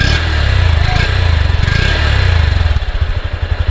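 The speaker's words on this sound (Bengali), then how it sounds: "একটা বিগ বাইকের মতো কিন্তু গর্জনের একটা আওয়াজ কিন্তু রয়েছে" Honda CB200X adventure motorcycle's exhaust note, a loud, close, throaty engine rumble that holds steady and then breaks into pulsing revs near the end, alone with no talk.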